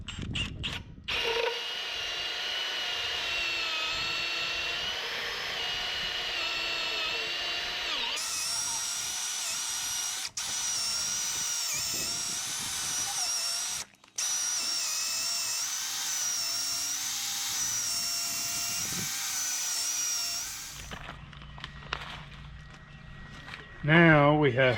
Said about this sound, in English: we're going to take the Milwaukee